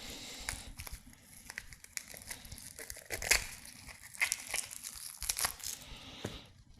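Papery crinkling and tearing as the dry outer skin is peeled off an onion by hand, close and soft, in scattered crackly bursts with no talking.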